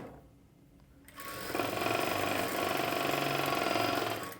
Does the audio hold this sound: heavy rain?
no